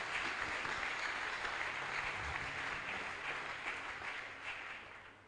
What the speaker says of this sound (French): Nous allons acclamer pour la parole de Dieu.